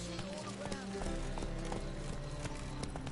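Roach, the horse in The Witcher game, trots with a steady, rapid clip-clop of hooves close by, over a dense, busy game background.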